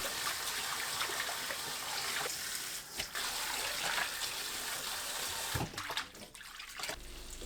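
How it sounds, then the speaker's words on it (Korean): Blanched water dropwort is rinsed in cold water, producing a soft, continuous trickle and splash of running water with brief louder sloshes, close and quiet. "찬물에 헹굽니다."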